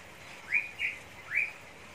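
Baby watercock chicks being hand-fed let out three thin, rising whistled chirps in quick succession, fairly close and clear over a soft background hiss, with no talking.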